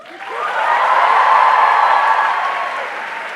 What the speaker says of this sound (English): can I have the loudest applause?